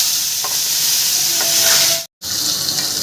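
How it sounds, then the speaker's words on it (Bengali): Tilapia fish frying in hot mustard oil in a wok, giving a steady close sizzle with faint stirring clatter, briefly cut off by a short gap. "মাছটা আমি এবার ভেজে নেব।"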